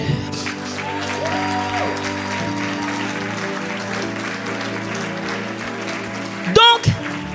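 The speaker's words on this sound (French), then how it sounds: "Acclame-le." A church congregation applauds and cheers after a pastor's call to praise God, steady clapping filling the room for several seconds, with a brief louder burst of cheering near the end.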